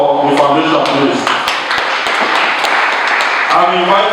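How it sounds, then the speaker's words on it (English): An audience at a foundation's scholarship award ceremony breaks into loud, dense clapping that carries on steadily for several seconds, with a voice speaking over the start and end. "a round of applause for the foundation, please"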